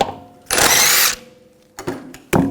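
A power tool with a 17mm socket spins lug bolts off the rear wheel of a 2011-2018 Volkswagen Jetta: one loud, sustained half-second burst, then two short, sharp bursts after a pause.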